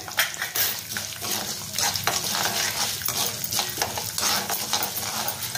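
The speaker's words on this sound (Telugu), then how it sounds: "ఇగో ఇప్పుడు ధనియాలు వేస్తాను, 2 చెంచాల ధనియాలు." Coriander seeds dry-roast in a pan and are stirred often, making a close, dense rustle and scraping with soft sizzling that stays steady, plus a few sharper clinks from the utensil.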